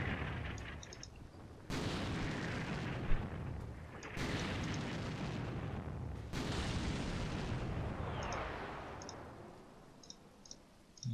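Artillery fire in a military video game set around Narva, with three heavy, sharp-onset blasts a couple of seconds apart, each followed by a long rumbling decay. The shots are loud and stand alone, with faint clicks in the background.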